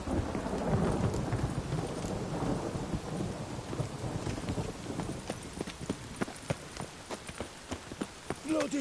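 Steady rain and a deep rolling thunder rumble in The Witcher 3, with clip-clop of horse hooves growing distinct and rhythmic as the storm noise eases.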